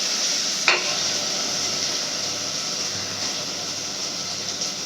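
Mustard seeds and fennel seeds sizzle in hot oil, a steady close crackling hiss with a brief sharp pop near the start, with no talking.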